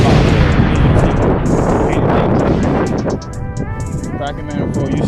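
A Mazda Miata NB's exhaust pops and crackles loudly with rapid bursts over a roaring engine, then settles into a lower idle with scattered pops, while someone talks over it.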